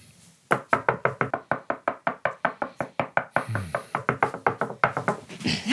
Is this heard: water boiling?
no